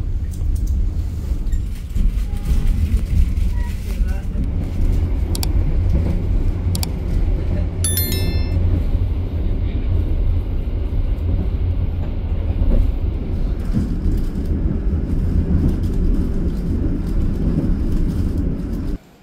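Interior rumble of the KA Ranggajati business-class train running on rails between Jember and Cirebon, a loud continuous low roar with rattling, briefly topped by a faint high squeal.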